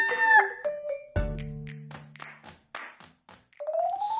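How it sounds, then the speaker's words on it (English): A hen and rooster make farmyard calls: a crow-like cry, then a series of short clucks and squawks, close and fairly loud with brief pauses. "Hen."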